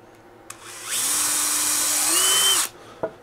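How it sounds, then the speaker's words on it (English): A power drill bores a hole into cedar wood, whining steadily for about two seconds after a brief click, then cutting off with a sharp knock at the end. "You want to drill three holes in there, and that's clearance for the nail because cedar splits very easily."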